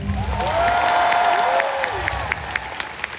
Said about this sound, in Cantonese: 掌聲！